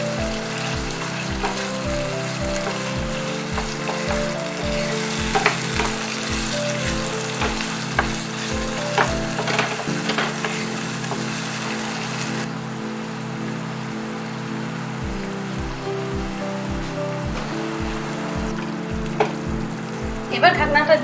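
Chopped tomatoes and green chilies frying in oil for dum aloo, a steady close sizzle with regular stirring knocks in an even rhythm, loud and continuous, with no talking.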